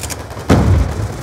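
A grenade explosion in Call of Duty Black Ops 2 multiplayer: a single sudden heavy boom with a sharp broadband burst, followed by a rumbling low-end tail that lingers for most of a second.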